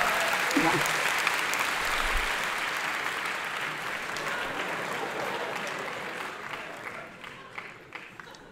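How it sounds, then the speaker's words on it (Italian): An audience applauds at an Italian comedy show, a full, steady burst of clapping that slowly thins toward the end, with talking mixed in at the start. "Un applauso, ah, un applauso."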